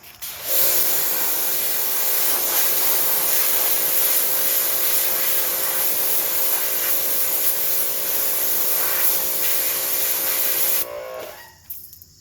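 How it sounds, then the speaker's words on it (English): A water spray rinses leftover wheel cleaner off car wheels, a loud continuous hiss with a steady tonal hum underneath that runs for about ten seconds and then cuts off abruptly. "I've got leftover wheel cleaner in these. I'm gonna rinse them off real quick."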